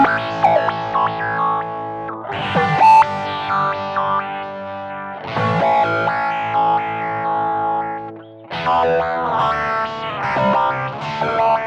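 Guitar played through a Zoom GFX 707 multi-effects unit with a heavily distorted, chorused tone and echo. Three bursts of sustained chords and lead notes ring out, separated by short gaps.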